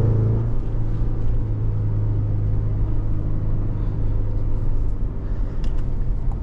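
A 2024 GMC Canyon AT4X AEV Edition's four-cylinder engine drones steadily while driving, heard from inside as a constant low rumble with road noise and no talk.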